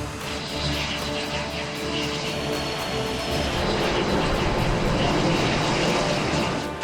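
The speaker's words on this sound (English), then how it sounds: "Patriot 1 flight's clear for takeoff" A steady, loud roar of military jet aircraft taking off at an airshow flight from San Francisco during Fleet Week, building slightly in intensity as the engines power up and the flight departs.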